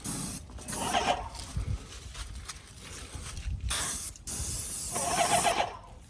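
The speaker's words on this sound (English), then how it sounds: "You want to spray up on the low" Bursts of hissing spray from a sprayer applying stain, several long passes separated by short pauses, loud and close.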